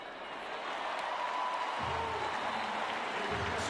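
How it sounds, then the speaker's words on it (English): Stadium crowd at Heinz Field during a Miami vs. Pitt college football game, a broad roar of cheering and applause swelling and holding loud, with a commentator's voice talking over it. "Pitt has the crowd lit here today at Heinz Field"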